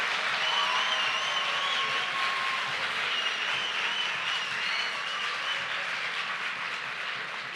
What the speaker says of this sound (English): Let's clap the hand to these 3 beautiful boys.